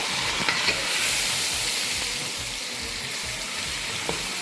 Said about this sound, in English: now give it a quick stir.